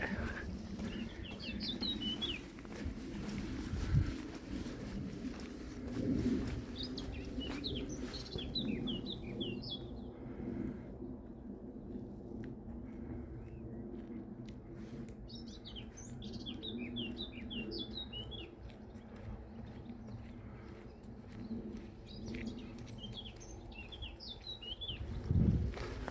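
Small birds sing in bursts of bright chirping trills along a quiet countryside path on the Camino de Santiago between Castildelgado and Villafranca Montes de Oca, over a low rumble of distant traffic.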